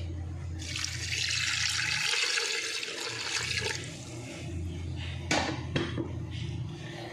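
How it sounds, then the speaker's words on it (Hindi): Water gushes steadily into a pot of tomatoes, onions, ginger, garlic and spices for aloo gosht, a loud splashing rush, then settles with a few metallic clinks and knocks. "और पानी ऐड कर देंगे।"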